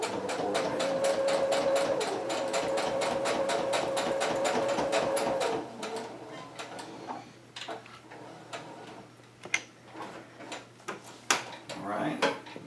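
Sewing machine stitching fabric forward and back in a quick, steady mechanical rattle for about five seconds, then stopping and giving way to quieter clicks and handling noises as thread is pulled free and snipped.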